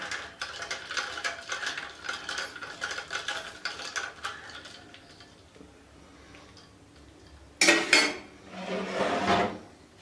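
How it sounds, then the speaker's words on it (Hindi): Peach sharbat being stirred with ice and cold water in a jug, giving a steady run of close clinks and rattles that fade, then two short louder bursts of ice churning near the end. "अब हम इसको अच्छे से मिक्स कर लेंगे।"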